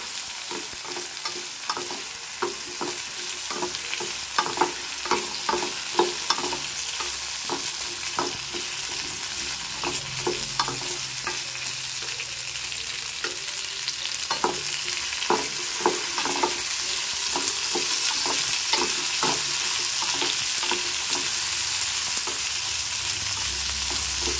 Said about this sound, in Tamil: சேர்த்துட்டு நல்லா இந்த கத்திரிக்காய்களை ஒரு 2 to 3 நிமிஷம் வதக்கிக்கலாம்.